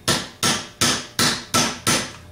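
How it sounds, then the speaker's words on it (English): Five evenly spaced, sharp hammer blows, loud and close, tapping a deep-wall socket down onto a Ford 3G alternator part held in a vise, each strike ringing briefly before the next. "get my hammer and start tapping it down slowly"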